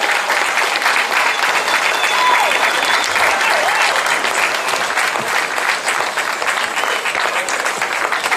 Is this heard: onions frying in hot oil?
no